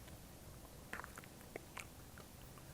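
Crunchy edible mealworm flavoured with lemon lime Kool-Aid, chewed close to the mic. A few faint, brief crunching bites come over a low background hiss.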